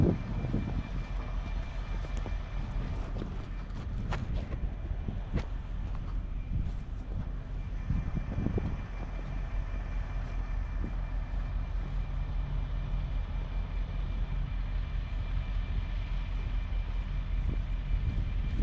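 An excavator's diesel engine runs at a steady low rumble for a long stretch, close and continuous, with a few clanks early on and no talking.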